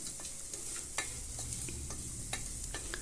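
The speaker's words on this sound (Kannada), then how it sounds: "ಈಗ ನಾನು ಶುಂಠಿ ಬೆಳ್ಳುಳ್ಳಿ ಸೇರಿಸ್ಕೊತಾ ಇದ್ದೀನಿ. ಸೇರಿಸ್ಕೊಂಡು ಇದನ್ನು ಸಹ ನಾನು ಇಲ್ಲಿ ಫ್ರೈ ಮಾಡ್ಕೊತಾ ಇದ್ದೀನಿ" Ginger and garlic frying in a pan for vegetable kurma, a close steady sizzle broken by several sharp clinks and scrapes of a spoon stirring, with no voices.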